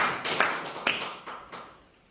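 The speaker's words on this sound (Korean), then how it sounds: "하나님께 박수로 영광 돌리겠습니다." A church congregation gives brief applause during a sermon, a short scatter of sharp claps and taps that quickly thins out and fades.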